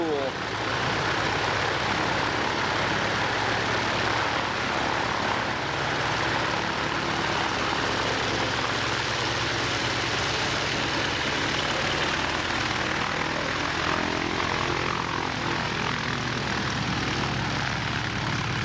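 A radial-engine propeller airplane flies at an airshow, its engine drone steady and fairly loud throughout, with broad noise over a low rumble and no clear talking.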